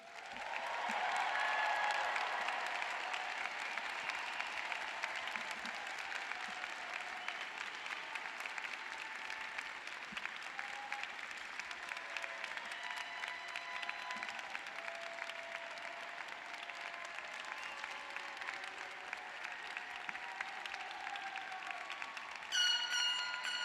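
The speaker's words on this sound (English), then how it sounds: "Graduates, I hope you felt that applause as a warm hug around you" A large graduation audience applauds the University of Kentucky College of Medicine class of 2025, sustained clapping filling the hall at a fairly even level that tapers slightly as it goes on.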